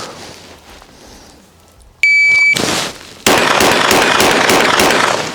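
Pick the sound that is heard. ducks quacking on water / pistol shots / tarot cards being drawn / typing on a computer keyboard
pistol shots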